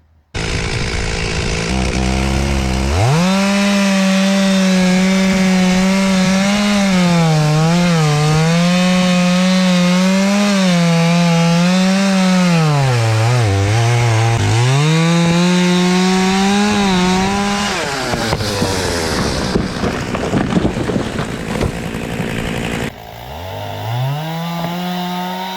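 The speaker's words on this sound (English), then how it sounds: "We got the MS 361 Stihl with a 24-inch bar ready to go." A Stihl MS 361 chainsaw with a 24-inch bar cuts into large leaning trees on a farm, its loud, close engine holding a steady high drone under load, dipping and surging as it bites, then easing off near the end.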